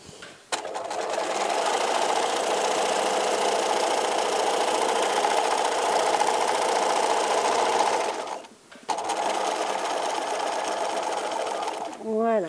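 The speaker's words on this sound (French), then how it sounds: "prenez-vous un repère au niveau du pied pour avoir une piqûre bien droite" A domestic sewing machine runs steadily while stitching a straight seam in fabric, with a continuous motor whir for about eight seconds, a brief pause, then more stitching, ending with a short burst of speech.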